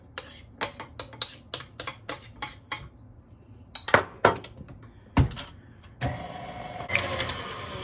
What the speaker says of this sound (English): the 2 slightly beaten eggs, and the 8 teaspoons of butter melted. We're going to mix that to combine.